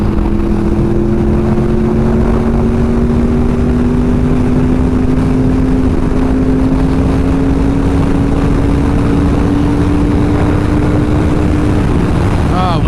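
Honda VFR800 motorcycle engine with VTEC, a loud steady drone that climbs slowly in pitch as the revs rise past 7,000 RPM, heard continuously over strong wind rush.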